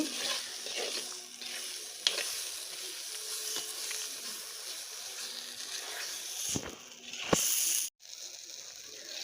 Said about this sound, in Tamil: கொஞ்சம் நல்லா எண்ணெய் பிரிஞ்சு வர அளவுக்கு நல்லா கிளறி விட்டுடலாம்